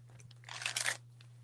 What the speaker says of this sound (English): I'll go ahead and start shuffling